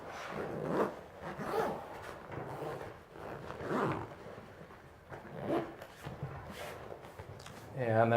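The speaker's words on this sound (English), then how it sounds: "Zip this up." Fabric cover of an Aeris jetpack being zipped up: a series of rough, rasping zip pulls repeating roughly every second, close and fairly quiet.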